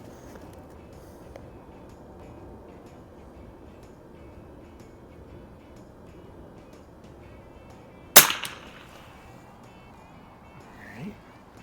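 A single sharp crack from an early Marlin 39a lever action rifle fired at a 50 yard target with iron sights stands out over faint outdoor background noise.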